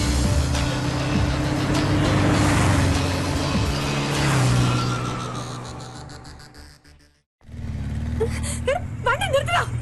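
A car drives with a steady engine rumble and road noise under overlapping shouted talk, cutting out briefly before resuming.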